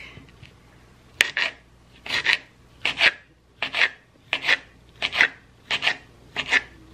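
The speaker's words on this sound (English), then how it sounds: "I'm just gonna start cutting up the weenies here" A knife slicing through hot dogs on a cutting board, eight crisp, evenly spaced chops in quick rhythm, close and clear with no talking.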